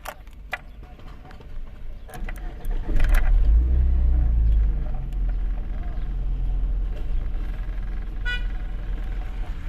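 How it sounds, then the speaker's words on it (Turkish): A Lada Vega with a battery-draining fault cranks and fires up close by, its engine swelling into a loud low rumble before settling into a steady idle. "Şimdi çalıştıralım bakalım araba kaç voltta."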